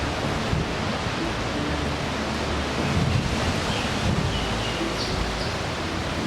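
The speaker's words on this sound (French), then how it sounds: "Une tempête de vent sur l'eau." Strong wind roaring steadily over open water on Hawaii's Big Island, a dense rushing noise with surf-like swells and buffeting against the microphone.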